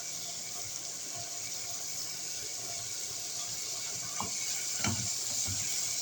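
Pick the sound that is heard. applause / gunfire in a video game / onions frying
onions frying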